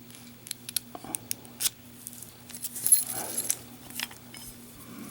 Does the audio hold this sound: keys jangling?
yes